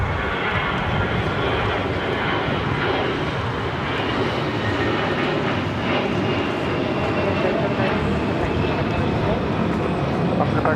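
A jet airliner takes off at LAX, its engines a continuous, loud, broad roar that stays steady and unbroken, with a voice faintly mixed in underneath.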